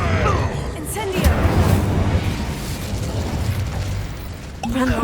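Incendio fire spell cast in the Hogwarts Legacy game, heard as bursts of whooshing flame and booming impacts amid battle clatter, with short voiced exclamations over the top.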